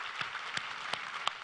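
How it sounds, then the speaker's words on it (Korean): Church congregation claps together in a steady, hissy wash of applause with a few sharper claps standing out, moderately distant and fairly quiet, without talk. "우리 하나님께 감사와 영광의 박수를 드리겠습니다."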